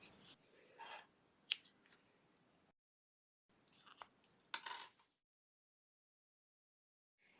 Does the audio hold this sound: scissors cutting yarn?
yes